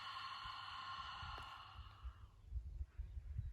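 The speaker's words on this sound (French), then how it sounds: "je souffle." Breath pushed out in a long, controlled sigh during a floor Pilates exercise, close and fairly soft, with a few short breathy puffs trailing after it.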